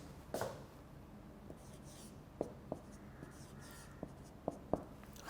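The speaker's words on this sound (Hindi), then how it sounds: "मैं इधर लिख देता हूँ" Marker or chalk strokes on a lecture board, a handful of short scrapes and taps spread unevenly through a quiet room, with brief talk near the start.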